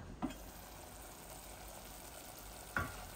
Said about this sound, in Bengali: মশলাটা ভালো করে ভুনে ফেলি